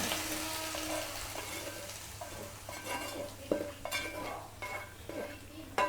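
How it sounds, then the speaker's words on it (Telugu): Hot oil sizzles quietly as a tempering is poured into a garlic and sesame-flour curry, a spoon stirring and clinking against the metal several times, at low volume. "ఈ పోపు అంతా ఇందులో వేసేసుకుందాం"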